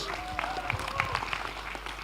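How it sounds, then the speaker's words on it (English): An audience at a secondary school awards ceremony claps briefly and scattered, mixed with a voice talking over it. "Give yourself a round of applause."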